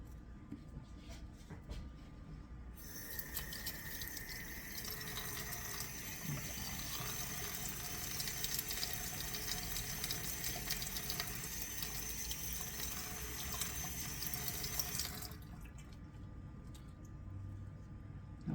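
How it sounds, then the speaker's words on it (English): A kitchen tap runs steadily into a sink for about twelve seconds, a loud continuous splash and hiss of water rinsing fresh mint leaves, beginning and ending abruptly. "What you're going to do is rinse all these leaves off"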